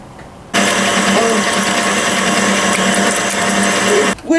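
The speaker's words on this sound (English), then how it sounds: "Mix your wet ingredients with the mixer." An electric mixer whirs steadily as it beats wet baking ingredients, egg and milk, in a cup. The motor starts abruptly, holds a constant loud buzzing drone for several seconds, then cuts off, with no talking.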